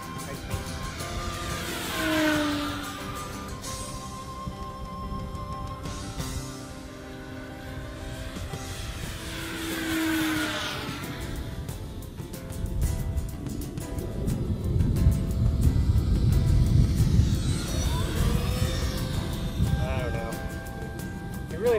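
A radio-controlled Tower Hobbies P-51D Mk II model plane flies overhead, its electric motor whine rising and falling in repeated Doppler sweeps as it passes near and away, with a rumbling wind noise and someone talking over it.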